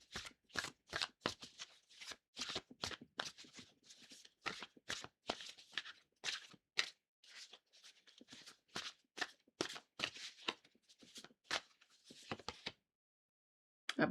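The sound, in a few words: shuffling tarot cards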